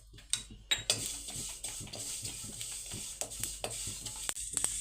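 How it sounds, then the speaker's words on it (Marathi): Sesame seeds dry-roast in a metal pan on the stove as a spoon stirs and scrapes them, giving sharp clinks and soft rustling over a faint, low background. "आता हे दोन चमचे तीळ घेतलेले आहेत तेही आपल्याला भाजून घ्यायचे आहेत"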